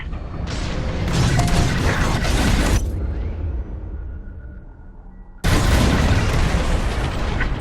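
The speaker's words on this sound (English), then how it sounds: "On my mark, it's bombs away." Bombs detonating in the Star Wars Squadrons space-combat game: a long roaring burst of explosions, a brief fading rumble, then a second abrupt loud blast that keeps booming to the end.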